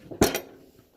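A cooker lid is closed over chicken leg quarters, giving one short clattering knock followed by a quick second contact, close and alone, then fading.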